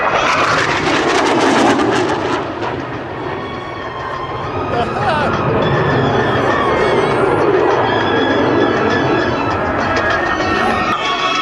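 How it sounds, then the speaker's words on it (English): An F-5 jet roars past at an outdoor airshow in front of the crowd, a loud sustained engine rush that swells and fades, with an announcer talking over it the whole time. "Stars pitching up in minus 3G. And F5 aircraft."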